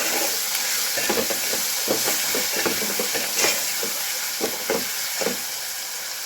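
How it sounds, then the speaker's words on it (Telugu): Ginger, onion and turmeric frying in a pan, a continuous close sizzle and hiss with repeated soft stirring scrapes rising above it, no voices. "కొద్దిగా అల్లం ఉల్లిగడ్డ పసుపు మంచిగా కలుపుతున్నాను నేను"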